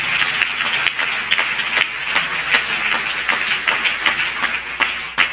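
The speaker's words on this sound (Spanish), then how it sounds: "Denle un aplauso a él esta noche" A church congregation applauds during a sermon, steady dense clapping from many hands that carries on evenly, fairly loud and close, with no voices over it.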